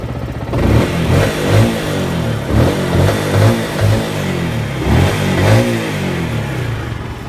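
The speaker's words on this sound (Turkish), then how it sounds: "orijinal egzozun sesi." A Yamaha YZF R125 motorcycle's stock exhaust revs loudly and repeatedly, the engine pitch rising and falling in short bursts close by with no one talking.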